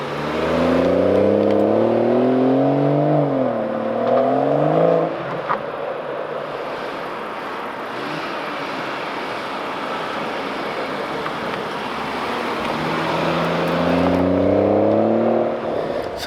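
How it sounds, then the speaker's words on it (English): A BMW M140i drives on the road with fresh brakes fitted, its engine revving and accelerating loudly at the start and again near the end, settling into a steady cruising whir and road rumble in between, with no talking. "Car is back from a little road test."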